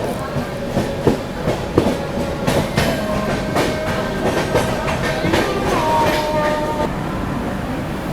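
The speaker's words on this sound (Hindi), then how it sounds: "फिलहाल अपनी चेन्नई एक्सप्रेस जो है दादर अराइव कर रही है" Chennai Express passenger train pulling into Dadar station in Mumbai, a steady loud rumble of wheels with rhythmic clickety-clack over rail joints and squealing tones, brief faint voices now and then.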